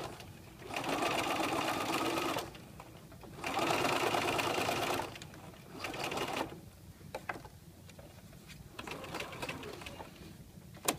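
A sewing machine edge stitching a lapped zipper runs in three quick bursts of rapid, even stitching, each a second or two long, close and clear. Quiet fabric handling and faint clicks fill the gaps.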